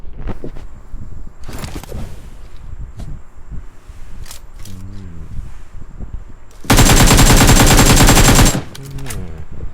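Rapid, continuous machine-gun fire from a video game bursts loudly for about two seconds, following scattered shorter shots, thuds and movement noises in the game.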